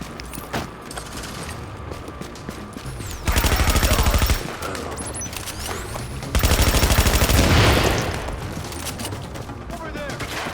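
Deployed turret firing in The Division video game, two sustained loud bursts of rapid automatic gunfire over scattered shots and combat noise, with a voice calling out in between.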